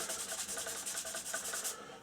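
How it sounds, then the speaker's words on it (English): Light polishing by hand over restored panel lines on a Globemaster III scale model, a steady rhythmic rubbing stroke repeated about a dozen times, soft and close, then stopping abruptly. "I'm just going to give it a light polish like so."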